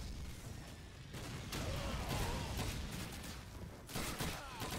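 Sustained gunfire from several weapons in Call of Duty 2, a dense, continuous stream of shots with a fresh volley toward the end, with faint talk underneath.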